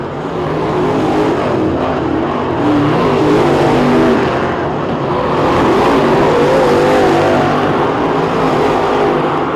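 Race cars running side by side in a heat race on an oval track at a winter nationals event, a loud continuous roar of many engines that swells and fades as the pack passes, sustained throughout with no clear breaks.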